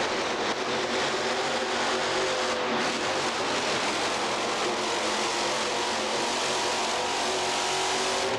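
Superstock pulling tractor engine roaring loud and steady as it leaves the line at an indoor tractor pull, a continuous close, full-throttle revving with crowd and arena noise blended in.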